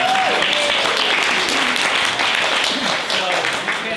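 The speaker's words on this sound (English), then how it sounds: "So let's give them a round of applause." An audience at a volunteer-run mansion mystery theater show applauds its 20th-year cast, a steady, dense wash of clapping that holds throughout, with voices mixed in under the crowd noise.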